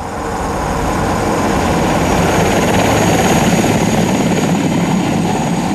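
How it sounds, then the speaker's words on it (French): Loud, continuous thudding roar of military helicopters passing close overhead, flying about 10 metres above the ground in Djibouti, building slightly in intensity, with no talking. "Les hélicoptères volent à 10 mètres du sol"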